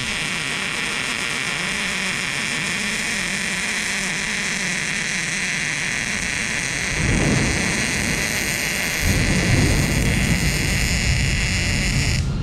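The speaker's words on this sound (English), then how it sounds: "I think we got a thunderstorm coming." An approaching thunderstorm sends deep rolling thunder over a steady outdoor hiss during a car exhaust install, the rumble swelling loudly at two points in the second half.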